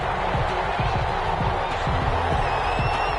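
Stadium crowd noise in a Madden NFL football game before a Brooklyn Barons–Detroit Lions matchup: a steady, dense roar of cheering with scattered claps and whoops, while a commentator talks over it.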